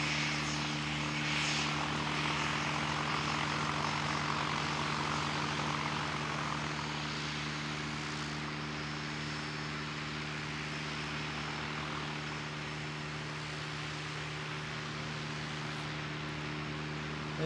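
A propeller airplane taxis out at an aero club, its engine giving a steady droning hum with strong low tones, moderately distant and unbroken for the whole stretch, with no voices.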